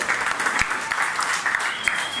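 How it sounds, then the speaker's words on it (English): An audience at the Australian launch of the Kawasaki Z900RS Cafe motorcycle applauds a speaker, with dense, steady clapping and a few sharper claps standing out near and loud throughout. "Another round of applause for Rob"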